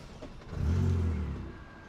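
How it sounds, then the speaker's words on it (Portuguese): Renault Sandero engine starting and revving up, a close low rumble that swells to a brief rev and then settles back down. "E vamos ligar o Sandero."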